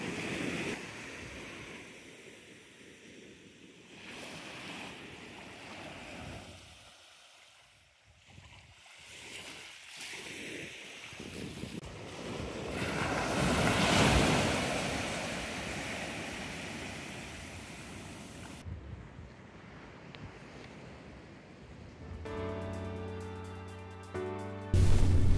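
Waves breaking on a sandy beach shore, a steady, fairly loud wash of surf with rising and falling swells and no talking; a brief mechanical hum cuts in at the very end.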